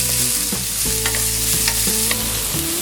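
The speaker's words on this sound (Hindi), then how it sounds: "मिक्स कर देते हैं" A spoon stirs cumin seeds and onion frying in a pan for a ragi paratha filling, making brisk scraping strokes over a steady sizzle. A soft tonal backing runs underneath.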